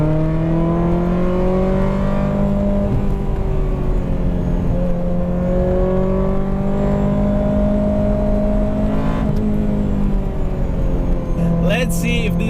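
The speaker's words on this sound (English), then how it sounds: "Let's see if this 23 years old Ferrari is still a tough car to drive." A 23-year-old Ferrari F355 on a racetrack, its engine revving and climbing through the gears in long rising sweeps with brief dips at shifts, loud and close throughout.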